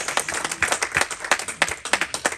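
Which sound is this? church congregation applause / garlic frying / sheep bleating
church congregation applause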